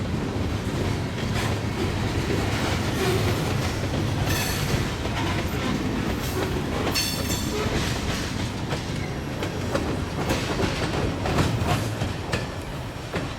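A Union Pacific detour freight train rolls past at Cedar Falls, Iowa, a steady loud rumble with rhythmic clickety-clack of wheels over rail joints and faint wheel squeal, continuous for the whole stretch with no voices.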